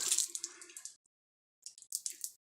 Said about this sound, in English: I'm just going to rinse this cloth.